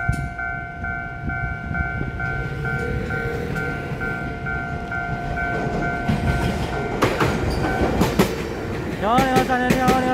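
A Puyuma Express TEMU2000 tilting express train on Taiwan's North-link line rushes past close by with steady rolling rumble and wheel clatter, a sustained multi-tone horn blast at the start and short horn toots near the end.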